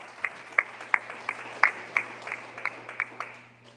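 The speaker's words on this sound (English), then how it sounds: "Everyone, give a round of applause for Jordan for hosting this event and letting us speak tonight." A small audience at a real estate marketing talk claps for the event host, a thin, uneven clapping with distinct individual hand claps that fades out.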